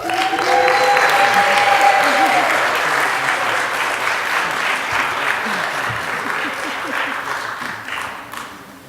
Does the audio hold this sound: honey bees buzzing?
no